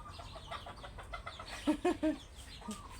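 A few short clucks from chickens stand out over faint outdoor background noise, bunched together in a brief burst near the middle.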